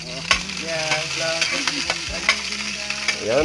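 Dried fish sizzling in cooking oil in a pan as it is stirred, with steady crackling frying and scraping stir strokes throughout, close and fairly loud, and a brief word spoken partway through.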